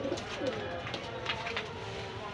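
Pakistani pigeons in a shop give soft, low cooing under steady background noise, with a few brief call bursts, close by and moderately loud.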